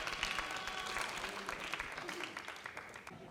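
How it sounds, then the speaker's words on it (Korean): Audience applause greets a school science club's presentation at a humanities festival, a steady, dense clapping that holds at a fairly even level for about three seconds with no talking over it. "큰 박수로 맞이해 주시기 바랍니다."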